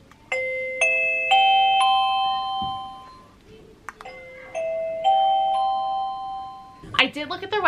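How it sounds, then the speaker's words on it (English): Wireless doorbell used to get a classroom's attention, sounding bright two-tone ding-dong chimes several times in succession with clear gaps between, followed by a brief burst of other sound at the end. "you could have one doorbell with one chime for attention grabbers"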